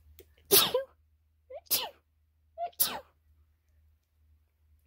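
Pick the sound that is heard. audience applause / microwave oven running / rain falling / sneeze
sneeze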